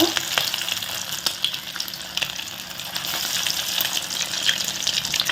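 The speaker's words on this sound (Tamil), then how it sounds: "இப்போ அடுப்பை நல்லா சிம்மில் வச்சுட்டு இப்போ இந்த மாதிரி தட்டி போட்டுக்கோங்க" Flattened vada batter frying in hot oil in a kadai over a low flame, a loud, continuous close-up bubbling sizzle with scattered crackles and no talking.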